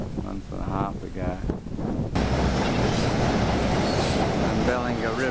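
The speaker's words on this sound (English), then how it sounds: "A train just came" A voice speaks briefly, then a loud train rumbles past up close, a steady roar of rolling wheels and rattling cars.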